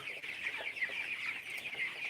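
Dense chorus of an overcrowded flock of broiler chickens clucking and chirping continuously on a farm, close by, with no talk.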